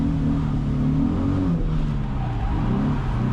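A Nissan 350Z drift car roars at high revs on a drift competition track, a loud, continuous engine drone with shifting pitch and no breaks.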